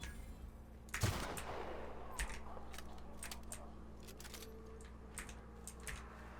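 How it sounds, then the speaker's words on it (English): Rifle fire from a sniper rifle in the video game The Outer Worlds, with one loud sharp shot near the start, then scattered fainter shots and clicks over a steady low hum. "Let's try this rifle."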